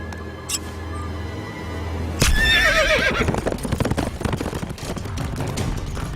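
In a Chinese TV drama scene, a horse whinnies loudly, its wavering call rising over a busy, rhythmic rumble of galloping hooves and movement that continues to the end.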